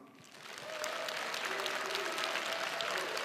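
Applause from a forum audience swells quickly and then holds as a steady, full wash of clapping, close and sustained, with a faint tone running underneath.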